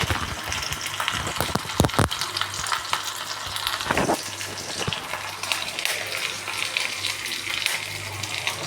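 Onion and curry leaves frying in a pan for a snake gourd kootu, producing a loud continuous hiss and crackle with stirring scrapes and a burst of clinks near the start.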